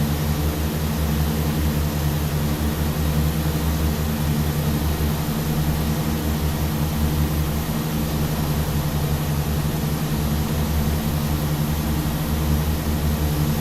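A Tecnam P2006T twin propeller plane in X-Plane 12 runs at raised throttle, giving a loud, steady engine drone with a strong low hum and a constant whir that never lets up.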